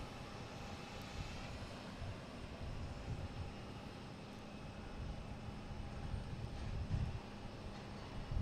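A Cape Air Cessna 402 twin propeller plane comes in to land at Boston Logan, its engines a steady, moderately distant drone with broadband rumble that swells slightly near the end.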